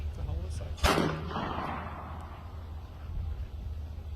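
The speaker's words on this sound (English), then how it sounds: "It sounds like someone's shooting something." A single sharp gunshot-like crack rings out at a distance, trailing into a short echoing decay over steady outdoor background noise, as though someone is shooting at something.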